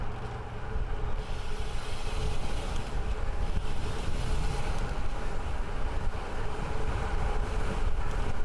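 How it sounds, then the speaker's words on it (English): Strong, steady wind roars and buffets the microphone outdoors, a continuous low rumble with gusty texture and no breaks. "the wind didn't let up since yesterday. Still pretty windy."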